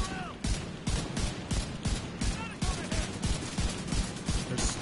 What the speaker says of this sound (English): There's a guy shooting over here.